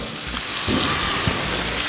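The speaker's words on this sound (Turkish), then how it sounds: "20 dakika kadar tavada e, çevrilerek kızartılması gerek, gerekiyor." Lamb shanks sizzle steadily in a frying pan for an Ankara tava dish, a dense continuous crackle with a few louder pops, close and alone with no talk.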